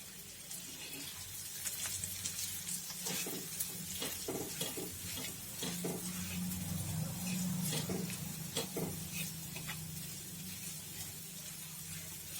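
Green chickpea chutney with green chili and garlic fries in oil, a steady close sizzle broken by repeated scraping stirs throughout.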